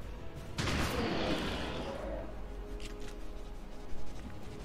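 Gunfire in a video game bursts in loudly, then fades into a lingering rumble and scattered lighter impacts, with no talk over it.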